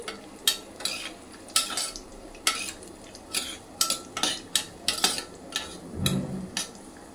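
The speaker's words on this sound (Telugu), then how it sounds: "సిమ్లో పెట్టుకొని ఫ్రై చేసుకోండి, లేకపోతే డ్రై ఫ్రూట్స్ మాడిపోతాయి" Dry fruits and raisins stirred while they fry on a low flame for bread halwa, giving a steady run of spoon scrapes and metal clinks against the pan over a soft sizzle, with no talking.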